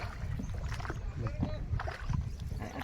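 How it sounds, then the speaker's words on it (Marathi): A wooden rowboat is paddled against the river current on the Konkan coast near Rajapur, with soft water splashes and knocks of the oars under wind and nearby voices talking. "पाण्याच्या विरुद्ध प्रवाहाच्या दिशेने होडी वलवत जात आहे आम्ही"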